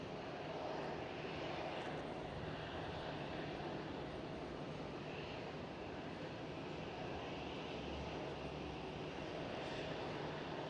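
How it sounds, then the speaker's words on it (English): A KLM Cityhopper airliner taxis past at Amsterdam Schiphol airport, its engines producing a steady, distant broadband roar and whine that holds at an even level throughout, with no talking. "KLM City Hopper taxiing by."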